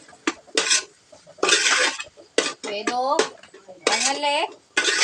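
Tomatoes, coriander, mint and curry leaves being stirred in a pot for biryani, with bursts of scraping and clattering against the metal. A voice speaks in between the stirring strokes.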